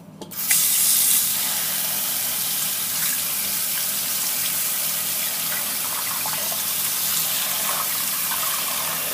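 Water runs and gushes steadily as a Sony Xperia V phone is put into the water, a continuous close splashing hiss that starts abruptly and keeps going without pause.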